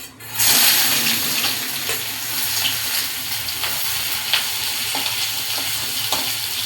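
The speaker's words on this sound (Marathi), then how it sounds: "आता फ्राय करते मी, त्यासाठी हा तेजपत्ता टाकलाय आणि हा बारीक चिरलेला कांदा." Bay leaf and finely chopped onion frying in hot oil for a chicken curry, a loud, dense, continuous sizzle with scattered stirring scrapes, close up and without talk.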